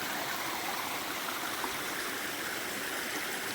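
A small mountain creek rushes steadily close by, a dense, even wash of water with no pauses or voices.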